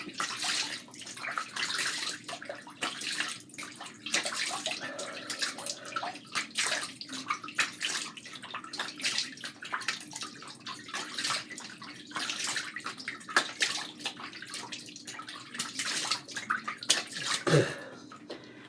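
Water runs steadily from a tap as a face is rinsed after makeup removal, with splashing and dripping throughout, close and fairly loud, ending with a brief cough-like knock.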